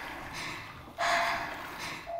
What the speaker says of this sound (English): with this heavy breathing, it might get in the way of our listening to that tape